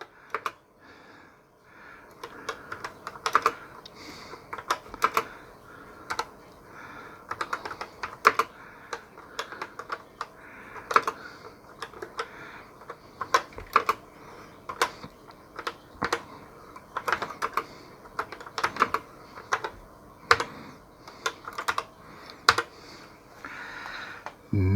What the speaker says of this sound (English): So let's type a little basic program.